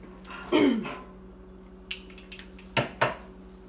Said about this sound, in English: First, you remove the caps and the bases, set them aside.